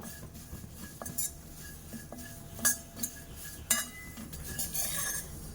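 Nylon poha being stirred and roasted in a hot kadai with ghee over a medium gas flame, light metallic scrapes and clinks of a spoon against the pan at an irregular rhythm, fairly close and soft.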